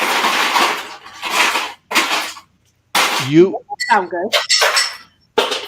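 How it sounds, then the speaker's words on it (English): Ice cubes clink against a glass in a few short, bright bursts between stretches of conversation, loud and close. "It's just ice cubes."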